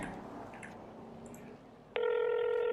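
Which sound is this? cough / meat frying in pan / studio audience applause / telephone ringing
telephone ringing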